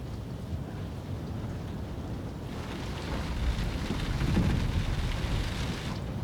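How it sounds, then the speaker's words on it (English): Steady rain hisses as a storm approaches, with a low rumble of distant thunder swelling midway, dense and even with no voices. "Is there a storm coming?"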